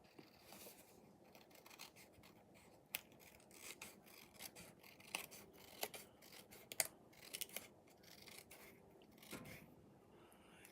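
Paper being trimmed for a Stampin' Up! card-making project, very quiet snipping and slicing with irregular light crisp clicks and rustles, heard close without speech.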